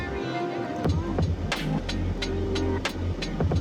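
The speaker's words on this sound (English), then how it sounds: "sitting waiting on cars to come by" Cars passing on a cliffside road in West Maui, heard as low rumbling engine and tyre noise with a few brief whooshes, mixed with steady background noise and some talk.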